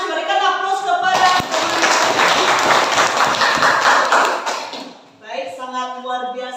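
Applause in a school classroom, several seconds of dense mixed clapping from a group of students, with a teacher speaking before and after it.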